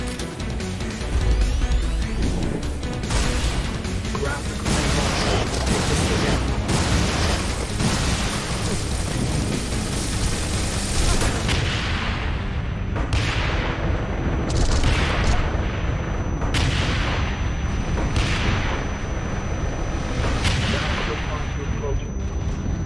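Repeated booming grenade launcher explosions in the action video game Wanted: Dead, a dense continuous barrage of blasts and gunfire that grows more distinct in the later half.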